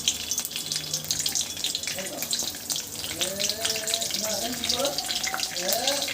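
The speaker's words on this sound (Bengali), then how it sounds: "কড়াইতে আমি একটু তেল দিয়ে নিয়েছি, আর শুকনো লঙ্কা, কাঁচা লঙ্কা দিয়েছি, মেথিটাও দিয়ে দিলাম।" Dry chillies, green chillies and fenugreek frying in a little oil in a wok, a bright continuous sizzle and crackle, close up, with a voice talking over it.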